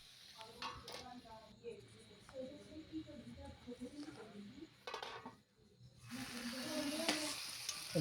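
Okra and potatoes are stirred in a pan for a Bengali bhindi aloo dish, soft scraping and sizzling with a brief quiet gap before the frying swells louder again, a voice talking over parts of it.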